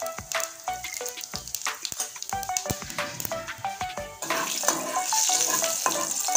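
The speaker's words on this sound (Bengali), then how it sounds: "এবার ফোড়নটা লাল করে ভেজে নেব।" Cumin seeds, a bay leaf and dried red chilli fry in hot oil, sharp crackling pops and spits scattered throughout, then settling into a louder steady sizzle.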